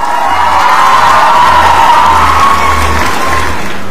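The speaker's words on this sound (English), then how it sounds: "Can we have a big round of applause for all these 20 finalists?" Loud, dense cheering and applause from a pageant audience celebrating twenty finalists at Miss Arunachal, a sustained crowd roar with whoops and shouts that holds steady throughout, with no talk over it.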